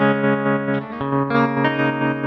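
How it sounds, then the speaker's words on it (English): Sustained electric guitar tones ring out with a washy reverb placed before a tremolo, giving a pulsing, wavering modulation, played alone with a few note changes through Waverley Instruments Voltage Modular modules. "And now the reverb is going to be before the tremolo."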